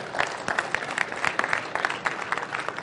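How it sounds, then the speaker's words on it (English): Close, lively clapping from a small conference audience after a case study presentation, individual hand claps distinct and uneven in a brief burst. "Give him a round of applause"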